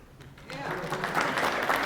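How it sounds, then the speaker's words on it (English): An audience at an anti-Trump comedy show breaks into applause, a dense wash of clapping that swells and holds at moderate loudness with no voice over it. "Now round of applause if you guys hate racist people."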